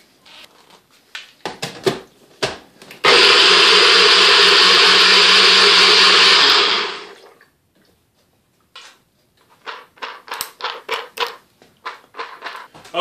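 NutriBullet blender with a failing bearing runs loud and steady for about four seconds with a rough, grinding whine, framed by clicks and handling taps before and after.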